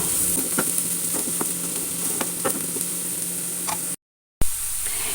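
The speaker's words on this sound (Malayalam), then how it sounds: "ജീരകം ചെറിയ ജീരകത്തിൻ്റെ പൊടി കൂടി ഇട്ട് കൊടുക്കുക നന്നായി അതൊന്ന് വഴറ്റിയെടുക്കാം" Cumin powder sautéing in a pan for a filled poori breakfast dish, a steady close sizzle with scattered stirring clicks, cutting out briefly near the end before resuming.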